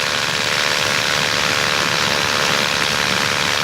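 A foot-launched paramotor's engine drones steadily in flight, a loud, unbroken propeller hum that stays even from start to finish with no pauses.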